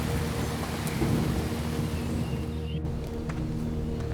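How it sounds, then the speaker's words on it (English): Heavy rain pours steadily in a dense, even hiss, with a low rumble underneath and no voices. "It's been raining for hours now and it's getting pretty dark."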